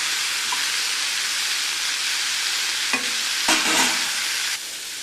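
Garlic and bird's eye chillies are stirred in a sizzling pan, a steady hiss of frying with a few scrapes and clatters of the spoon, close and clear, with no talking.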